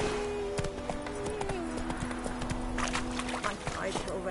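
Geralt's horse Roach gallops in The Witcher 3, steady clip-clop hoofbeats running throughout over ambient game sound, with a voice urging the horse on partway through.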